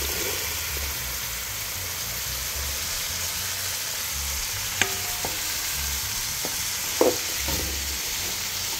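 Vegetables sizzle in hot oil with cumin, a steady close frying hiss with a few sharp clinks and scrapes of stirring partway through, no one talking.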